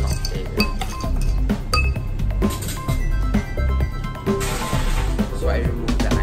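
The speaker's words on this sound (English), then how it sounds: "Now let's just give it a little mix. Just a quick stir because we're gonna make a crushed ice cocktail." A whisky cocktail is stirred quickly with ice in a glass. Bright clinks and rattles of ice against the glass repeat in rapid irregular bursts, loud and close.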